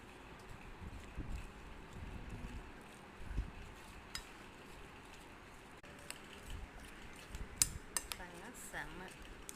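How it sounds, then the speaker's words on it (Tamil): A spoon stirs fruit custard in a bowl, giving faint, scattered clinks and scrapes against the dish over a quiet background. "இதோட மிக்ஸ் பண்ணிடுறேன்."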